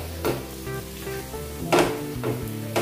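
Oil sizzles around a suji dosa in a hot pan, a steady crackling fry with a few louder bursts and scraping clinks of a spatula, close and without talk.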